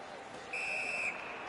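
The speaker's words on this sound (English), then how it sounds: "the referee blows the whistle" A referee's whistle in a PS4 ice hockey video game sounds once, a steady shrill blast of about half a second over a constant arena crowd murmur.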